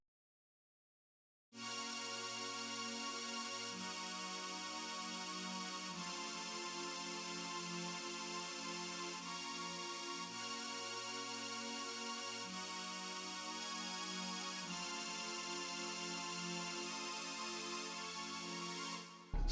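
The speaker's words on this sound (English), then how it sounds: "I took the piano MIDI and I went to expand, grabbed this hard steel pad." A hard steel synth pad layered from piano MIDI in an RnB production sustains as a dense, bright wash. It shifts chords every few seconds, alone after a short silent start.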